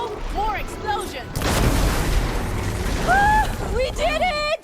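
Explosions in the video game Horizon Forbidden West: a loud, broad blast erupts and rumbles for a few seconds, with game voices and effects before and after it.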